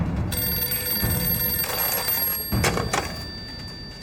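An old-style telephone bell rings in a drama's office scene, sounding in short repeated bursts of bright ringing at close range, with faint thumps in between.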